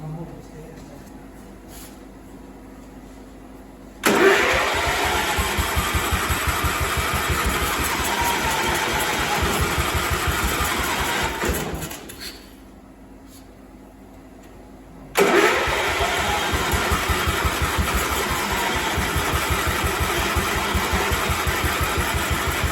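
Cub Cadet 1250 lawn tractor engine, unused for 20 years, cranks and fires, runs loudly and evenly up close, cuts out, then restarts and runs again, with a voice speaking over it.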